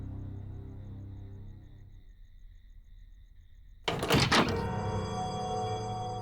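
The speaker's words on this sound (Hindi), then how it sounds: "दरवाजा बंद कर दो।" A door closes with one loud, close thud that rings on briefly before fading into room tone; no one speaks.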